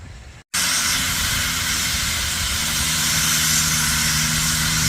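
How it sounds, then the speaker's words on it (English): A loud, steady roar of steam venting continuously from a steam engine at an antique tractor show, after a brief silence, with a low engine rumble and faint hum underneath. "Blowing off some steam."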